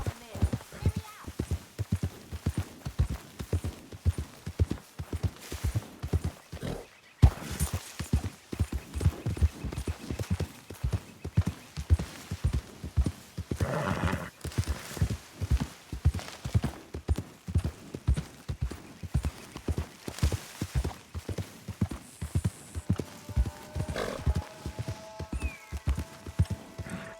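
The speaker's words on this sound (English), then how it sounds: "Hey, mister, that's one nice looking horse you got there." Horse hooves clip-clop in a steady rhythm through a Red Dead Redemption 2 game scene, with occasional whinnies and neighs, loud and close, while voices talk over the riding at times.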